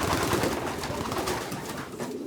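Pigeons at a club loft cooing close by, soft continuous throaty coos from several birds overlapping for a few seconds.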